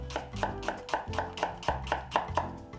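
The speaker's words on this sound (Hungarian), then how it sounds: "már is kezdek egy hagymavágással" An onion is chopped with a knife on a wooden cutting board, steady rhythmic knocks roughly every third of a second, close and clear with no talking.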